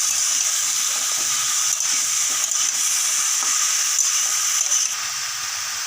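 Chicken stir-fried in mustard oil in a pan gives a steady, loud sizzle with bright hiss. Faint stirring scrapes break through now and then over about six seconds, with no voices.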